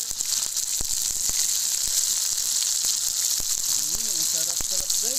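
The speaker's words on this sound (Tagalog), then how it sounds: "Piniprito ko yung sibuyas at ngayon binaliktad ko na yung sibuyas." Tuna frying with onions in a pan gives a loud, constant hiss of hot oil, with soft clicks and scrapes of a utensil and a brief voice near the end.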